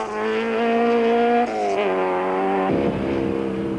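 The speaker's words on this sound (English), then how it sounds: "Connors starts stage 13 with a telltale sign of trouble coming from the Sentra's exhaust." A Nissan Sentra rally car with exhaust trouble, heard loud and close as the engine drones at a steady pitch, then lifts and sags unevenly with a rough, sputtering break near the end.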